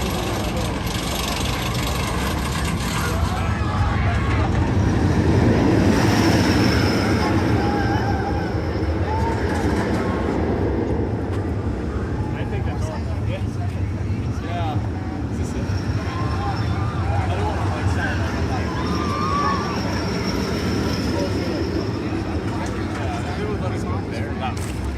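Lightning Run roller coaster trains at Kentucky Kingdom amusement park roar and rattle past with a steady mechanical clatter, loudest around the middle, amid crowd murmur and nearby talking.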